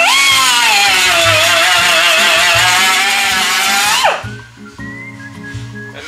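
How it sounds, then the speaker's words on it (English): A cutting wheel grinds down a high spot on a weld during restoration of a 1969 Chevelle SS muscle car, giving a loud, close, high whining screech that wavers for about four seconds and then drops away, leaving a lower rumble. "And the reason I'm going back to my cutting wheel is because in the center of this there's a high spot."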